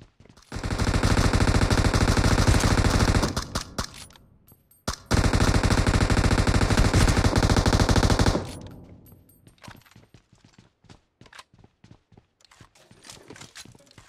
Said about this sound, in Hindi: तीनों पे AWM चला रहे